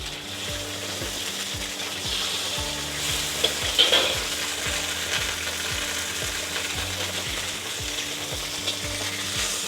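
Chicken stir-fries in hot oil in a wok, giving a steady loud sizzle with rhythmic metallic scraping and clacking of the spatula against the pan throughout, and nobody speaking.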